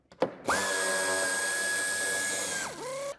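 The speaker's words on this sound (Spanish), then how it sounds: "Aflojaremos los dos tornillos." A power tool whirs for about two seconds at a steady high pitch, loosening 8 mm head screws in the wheel arch of a BMW iX3 G08, then spins down. The sound is close and clear.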